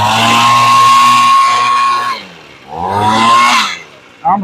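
An old Echo leaf blower with a freshly rebuilt carburettor runs loud and close with a high, steady two-stroke whine. It dips as the throttle drops, surges back up, then fades, ending with a short burst.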